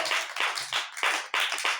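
Clapping from a gathering at a Bible class, brisk rhythmic hand claps in quick bursts, fairly close and loud, with a brief vocal sound mixed in.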